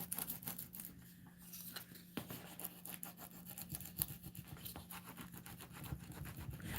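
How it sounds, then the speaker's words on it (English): Rubbing a decorative transfer onto a freshly painted surface, a close, continuous dry scratching and brushing friction with an uneven back-and-forth rhythm, fairly quiet. "I'm just going to start rubbing this transfer on"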